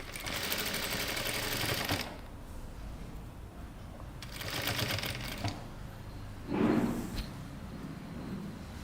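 Sewing machine stitching a princess cut kurta, running in several bursts of steady whirring separated by quieter pauses, close and moderately loud with no voices.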